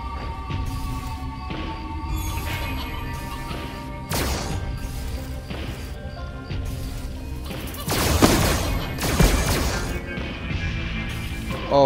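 Video game gunfire with several sharp crashing bursts and a rapid volley near the end, loud and close over a busy game soundtrack.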